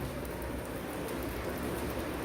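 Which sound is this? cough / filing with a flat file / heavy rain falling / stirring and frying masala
heavy rain falling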